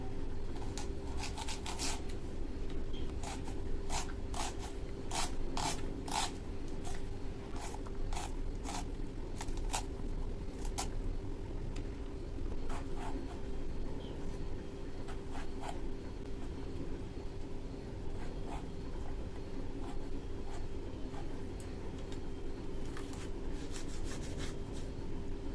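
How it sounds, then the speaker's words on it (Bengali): A knife slices onion, tomato and green chili on a board, giving quiet, crisp taps and scraping strokes that come in quick clusters early on, then sparser cuts over a faint background hum. "এ সাইডে পেঁয়াজ, টমেটো আর কাঁচা লঙ্কাটা কেটে নেব।"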